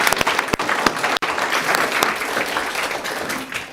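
An audience at a school board of education meeting gives a sustained round of applause, dense clapping with a few sharp louder claps near the start.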